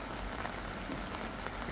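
Steady rain falling outdoors at a River Mersey fishing match, a constant even hiss of drops on surfaces with no pauses, moderately loud and alone.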